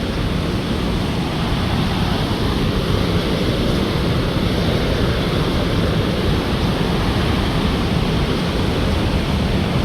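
Steady roaring rush of falling water at Victoria Falls, Zambia, loud and unbroken, filling the whole space without variation.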